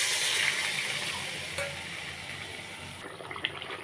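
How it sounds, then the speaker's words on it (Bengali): Spice masala of ground coriander, cumin and garam masala, fried for a fish curry, sizzles in a pan, then water poured in makes a sudden louder hiss and bubbling that fades into a softer simmering fizz. "ভালো করে কষানো হয়ে গেছে, এখন জল দিয়ে দেবো"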